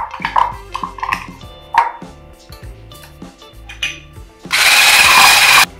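Electric whisk beating softened butter in a bowl for tart dough, first in short bursts among clinks and scraping, then a loud steady motor whir for the last second or so.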